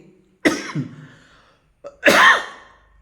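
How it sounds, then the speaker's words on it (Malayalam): Two short, sharp coughs about a second and a half apart, close and fairly loud, with a faint breath between them. "ചെറിയ ചുമയാണ്"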